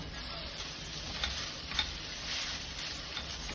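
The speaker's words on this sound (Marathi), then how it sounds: "आता ही स्पॅगेटी आपण उकडून घेतलेली होती ती टाकत आहे." Boiled spaghetti going into a pan of browned onion and garlic, heard as a quiet, steady sizzle with a few soft stirring scrapes and taps, close but faint.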